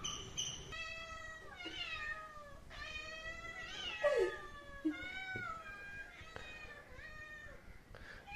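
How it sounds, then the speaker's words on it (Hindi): A cat meows repeatedly near a restaurant table in Trivandrum, begging for food; a string of close, drawn-out cries with short gaps, no talk. "बिल्ली को पता चल जाता है जैसे ही टेबल पे बैठ जाते हैं खाना खाने के लिए, यहाँ से मांगना चालू"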